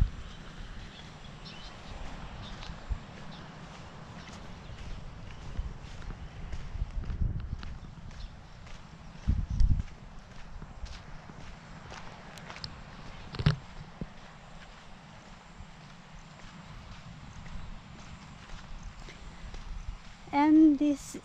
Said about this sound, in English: With horses over there.